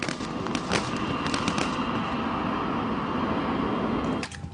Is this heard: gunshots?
yes